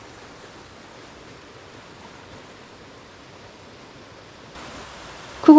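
Water flows between rocks in a mountain valley stream, a soft, steady hiss of falling water heard from some distance, rising slightly near the end before a brief louder sound cuts in.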